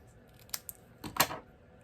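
Card stock for a Stampin' Up! pop-up card is trimmed down slightly, giving a couple of faint crisp snips followed by a brief louder cutting swish, close and quiet.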